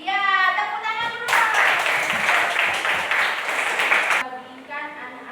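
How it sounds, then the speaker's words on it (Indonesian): A burst of group applause from schoolchildren in a classroom, roughly three seconds of brisk clapping, with an adult voice talking before and after it. "tepuk tangan dulu"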